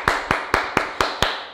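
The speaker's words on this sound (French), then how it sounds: "Et on s'applaudit." Six sharp, evenly spaced claps from a class applauding together after a karate exercise, each a crisp near hit with a short ringing tail, no talk.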